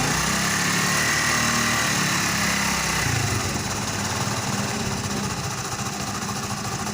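A small motorcycle engine idles steadily nearby during a carburetor mixture-screw adjustment, a buzzing putter that settles slightly lower and rougher partway through.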